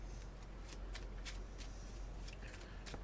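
A deck of playing cards being shuffled during a trading card game match, heard as a series of quick, soft riffling bursts repeating steadily at a modest distance, with no talking.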